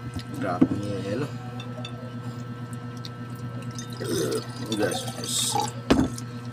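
Ice dropped into a glass of cold water at a meal makes a couple of sharp clinks and splashy plops, one early and one near the end, amid low room hum and nearby voices.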